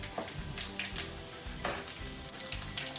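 Whole spices, fenugreek seeds, cumin, dried chilli and coriander seeds, sizzle in butter for dal makhani, a soft continuous crackle with scattered pops and stirring scrapes at close range.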